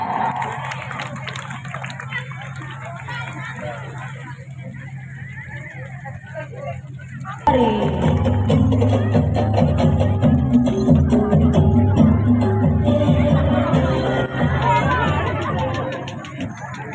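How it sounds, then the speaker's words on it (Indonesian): A crowd claps for a karate performance by pupils of SDN Balongsari at a school event. The applause is loud and sustained, mixed with cheering, crowd babble and voices. "Tepuk tangan yang meriah."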